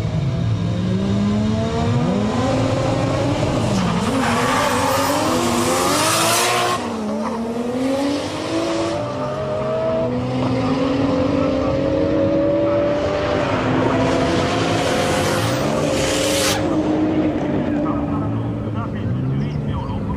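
Two modified Toyota Supras drag race on a street strip, a JZA80 with a 3-litre 2JZ and a JZA70 with a 2.5-litre 1JZ. Loud engines rev and climb through rising, shifting pitch sweeps with bursts of tire squeal, close and continuous.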